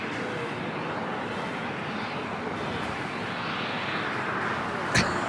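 An airliner at LAX bound for Paris roars steadily as a broad, continuous engine rumble, moderately distant, with a brief sharp click near the end and no talk.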